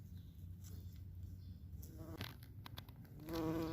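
Bees buzzing around blooming salvia flower spikes, a soft droning hum that swells louder near the end, with faint outdoor garden background.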